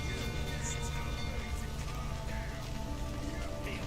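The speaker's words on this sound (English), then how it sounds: "Looks like rain." Rain falls in The Witcher video game, a dense steady patter of drops on surfaces that holds constant throughout, with a low game ambience underneath and speech-like sound mixed in.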